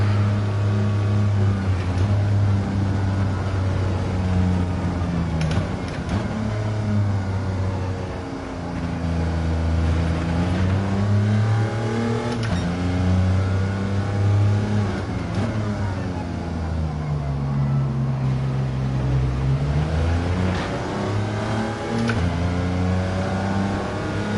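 A 1929 Barker Le Mans 700 race car engine in Gran Turismo 7 drones loudly and continuously, its pitch climbing and dropping through repeated gear changes during a race.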